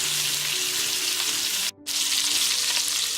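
Brisket sears in a hot pan, a loud, close, continuous sizzle and crackle that drops out briefly for a moment before resuming at full strength.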